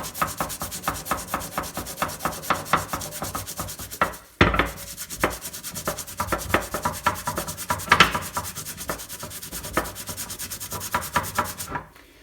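A sponge scrubs a copper hammer with vinegar in quick, rhythmic rubbing strokes, close and fairly loud, with a short pause partway through and no talking.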